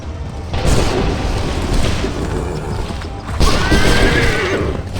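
A cannon volley fired during a battle in Assassin's Creed III Remastered: loud, dense booming and rumbling fire rolling on continuously, swelling again near the end, with clatter and chaos mixed in.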